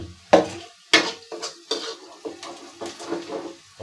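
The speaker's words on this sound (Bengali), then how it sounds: "খুব সুন্দর করে তেলে ভাজা করছে আইড় মাছ।" Aair fish frying in oil in a metal pan, heard as sharp clanks and scrapes of a utensil stirring against the pan, with a soft sizzle running underneath throughout.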